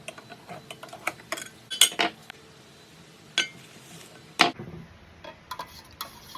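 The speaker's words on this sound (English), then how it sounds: "Using my takeout knife flatware as a stir stick and a piece of cloth as I dip into the stain" A metal takeout knife clinks and taps against a container while stirring wood stain, giving scattered light ticks and a few sharper clinks over several seconds, with no talking.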